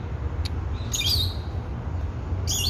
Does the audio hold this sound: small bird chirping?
yes